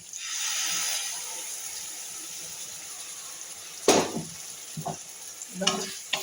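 A steady sizzling hiss of beans frying in a pan with poppy seed paste, followed by a few short scraping strokes as the food is stirred.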